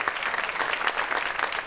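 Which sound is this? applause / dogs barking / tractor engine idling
applause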